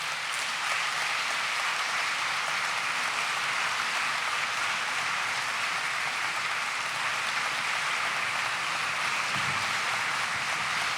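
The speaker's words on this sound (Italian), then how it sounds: "accogliamoli con un applauso." Steady, dense applause from a Christmas concert audience welcoming a choir, sustained without a break and with no voices over it.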